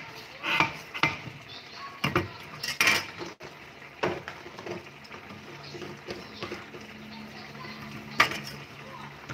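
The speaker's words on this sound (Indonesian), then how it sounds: "Sini dicincang halus agar lebih cepat larut nantinya" Palm sugar (gula jawa) being finely chopped with a knife on a board in a home kitchen, several sharp scattered knocks and clatters at close range over faint background noise.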